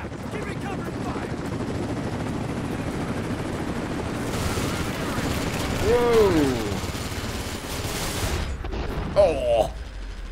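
Gunfire in Rise of the Tomb Raider rattles in continuous bursts beneath a heavy rumble, swelling louder midway, while a voice lets out brief startled exclamations.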